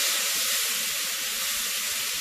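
Red cooking wine hitting a hot pan of beef stew for deglazing, giving a steady, loud broadband hiss and sizzle that holds evenly throughout with no talk.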